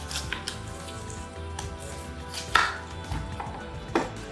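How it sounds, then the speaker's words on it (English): A knife slices the rind off a fresh pineapple in a series of close, crisp cuts and scrapes, spaced irregularly with a few sharper thuds, and no one speaking. "Then I'm going to peel my pineapple."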